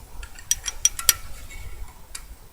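Clutch spring bolts being tightened on a Kawasaki GPz 550 motorcycle produce a few sharp metallic ratchet clicks close up, in a short uneven burst, then a quiet pause and one last click.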